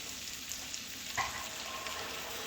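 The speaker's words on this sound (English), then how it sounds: "what I'm going to do now is add in our beef broth" Beef broth going into a hot pan holding bacon seasoning, for Creole green beans, a soft steady sizzle with a brief sharper spatter near the middle, quiet and close.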